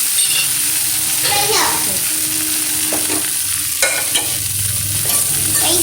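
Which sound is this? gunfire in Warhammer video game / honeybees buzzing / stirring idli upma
stirring idli upma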